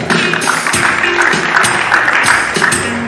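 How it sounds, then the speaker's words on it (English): An audience at a medical specialist annual lecture claps for a speaker, a steady patter of hands filling the hall at moderate loudness, with faint voices mixed in. "Is there one of these round of applause for him also?"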